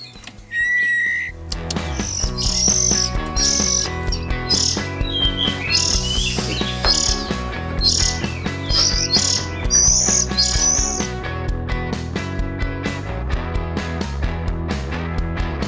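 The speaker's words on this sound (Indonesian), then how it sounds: "ini adalah anakan-anakan kacer" Oriental magpie-robin (kacer) chicks chirp and tweet in high, quick bursts, clustered mostly in the first two-thirds over a continuous tonal background that carries on to the end.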